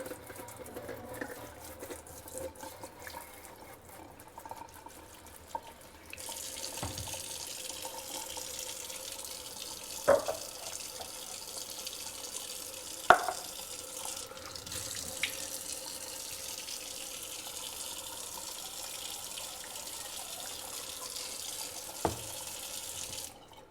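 A kitchen sink tap runs steadily while snake plants are washed beneath it, water splashing with occasional sharp knocks and clinks, the flow growing fuller partway through.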